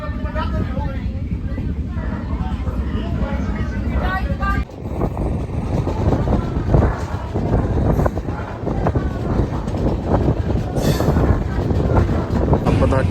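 Mithila Express sleeper train running, a steady rumbling roar of the carriage in motion with rattling, while a person talks over it throughout.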